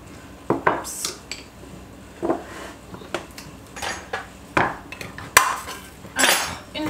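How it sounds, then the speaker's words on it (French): Crushed tomatoes from a can going into a pan, heard as a series of close metallic clanks and scrapes from the tin and utensil, with soft wet plops between them. "je vais ajouter une boîte de concassé de tomates"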